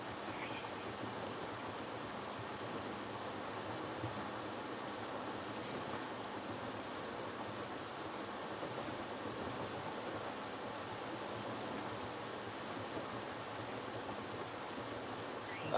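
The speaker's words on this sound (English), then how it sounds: "This is pretty serious rain coming down." Heavy rain drumming steadily on a vehicle while driving on a highway near Trimble and Linden, Missouri, a dense continuous wash of rain noise with road hum underneath and no speech.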